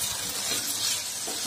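Raw potato pieces fry in a pan for a fasting-day vegetable dish, giving a steady close sizzle and hiss with faint stirring, no talking.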